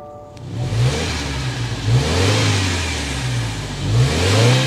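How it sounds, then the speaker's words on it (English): A 2024 Subaru Legacy Sport's turbocharged boxer engine revs repeatedly, its low exhaust note rising and falling in several rhythmic pulls, close and loud with no talking. "So if you hear that exhaust note"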